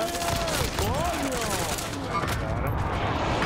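Gunfire in the online shooter Warzone: a dense, continuous barrage of shots under steady game noise, with voices talking over it throughout.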